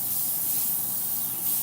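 Cooking spray is released onto a baking pan in one steady, loud, close-up hiss lasting about a second and a half.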